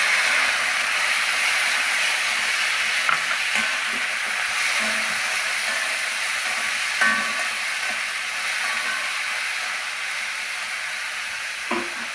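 Shallots and tomatoes fry in a pan with a loud, steady, close-up sizzling hiss that runs throughout, dotted with a few faint pops and crackles, and no one speaking.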